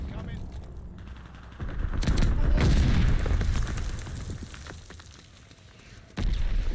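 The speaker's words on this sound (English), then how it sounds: "Friendly mortar fire coming." Mortar explosions and gunfire in Call of Duty Vanguard, with several heavy booms and crackling shots in bursts under a busy battlefield mix.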